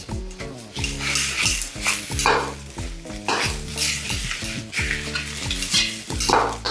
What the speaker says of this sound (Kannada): ನೀಟಾಗಿ ಫ್ರೈ ಮಾಡ್ಕೊಳ್ಳಿ